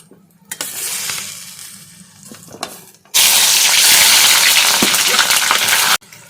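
Chopped onions hit hot oil already holding whole cumin and a bay leaf for chicken gravy, first a quieter sizzle with a few knocks, then a sudden loud, dense hiss that holds for about three seconds before cutting off sharply.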